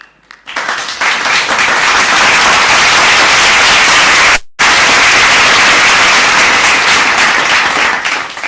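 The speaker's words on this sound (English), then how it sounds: "A big cheer for Mindshare joining in." A large crowd at a digital marketing awards ceremony applauds and cheers loudly, a broad roaring wash of clapping that surges up, cuts out abruptly for a moment midway, then continues at full strength.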